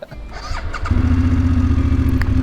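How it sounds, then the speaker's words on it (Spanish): A motorcycle engine cranks briefly, then catches and settles into a loud, steady, throbbing idle close by, the running note holding evenly to the end. "Suena muy lindo esta moto"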